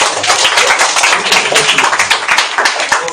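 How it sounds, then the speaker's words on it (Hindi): A full classroom of children at a Sainik School coaching academy claps loudly and rapidly close to the microphone, producing a dense, energetic burst of hand claps that continues unbroken. "जोरदार ताली।"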